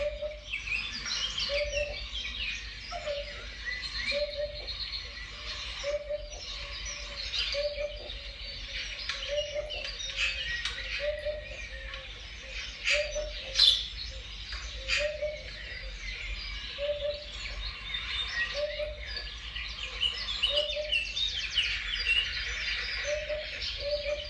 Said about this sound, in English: just draw the hoopoe sound